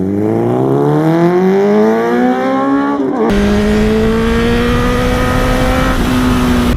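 A BMW S1000RR motorcycle engine revs loudly up through a rising whine, breaks off sharply for a shift, then climbs again in a high, strained tone, close and with no voices.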